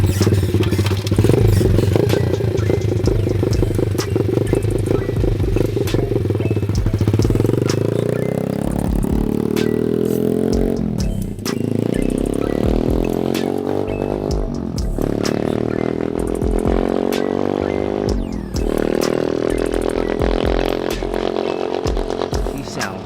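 A 125cc SYX MOTO dirtbike engine with a new clutch revs and rattles close by, its pitch climbing through several gear changes with brief dips between, while a voice talks intermittently over it.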